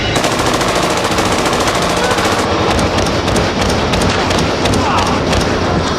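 Rapid automatic gunfire from a staged movie street gunfight, loud and dense, with sustained bursts filling the whole stretch and no pauses.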